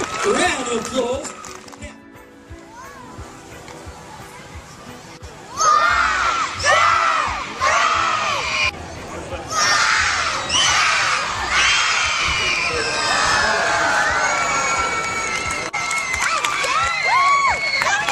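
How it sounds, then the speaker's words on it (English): A circus audience cheers, shouts and applauds after a knife act, with children's shrieks and excited voices rising loudly and continuously over a dense crowd roar. "Give him a huge round of applause."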